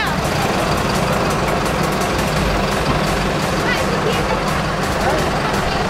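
A new ANS bus engine rumbles loudly and continuously at close range, a heavy diesel drone with steady low-end throb, while people talk over it.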